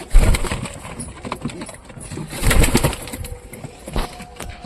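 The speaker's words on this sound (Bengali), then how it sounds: "সব কবুতর ধীরে ধীরে নামবে খাওয়ার জন্য" Pigeons flutter down to feed, with bursts of wing flapping and soft coos mixed with scuffling and handling noise nearby, loud at moments.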